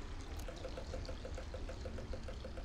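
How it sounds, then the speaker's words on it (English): Water pours in the Machinarium video game, a quiet, steady trickling stream with a soft regular bubbling pulse that runs for the whole short stretch, with no voices. "Now can I, like, fill this with water?"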